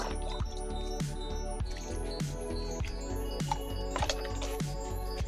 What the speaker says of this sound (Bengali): এবার এই জল দিয়ে দিচ্ছি একটু বেশি করেই জল দেব